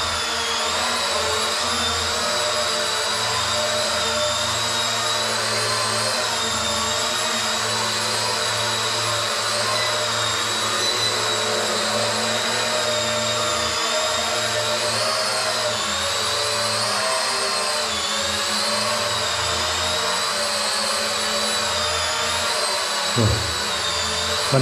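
Motors of a Maginon QC-800SE folding WiFi drone with swiveling camera run steadily at close range, a loud whining buzz with wavering pitch throughout and a small bump near the end.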